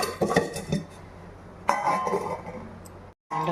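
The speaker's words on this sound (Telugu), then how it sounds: "దాని మీద మూత పెట్టేసుకొని ఉడకనిద్దాము బాగా." A metal lid clanks down onto a pot of simmering chicken curry, with a few sharp clinks and rattles of cookware, then a short silence before more kitchen clatter.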